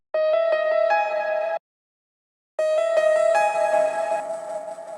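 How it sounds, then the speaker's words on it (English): Bright synth pluck notes with harmonic tones carry a short melody taken from the original stems at the end of a melodic dubstep drop from a remix. One phrase plays, a second of silence follows, then a longer phrase that slowly fades. "And at the end of the drop I add this pluck"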